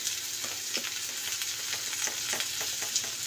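Masala with salt sautéing in a pan for a fish curry, a loud close sizzle with frequent scraping stirs throughout.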